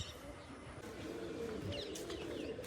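Pigeons cooing softly nearby in a loft as pairs are settled together, low repeated coos with some chirps and light background noise.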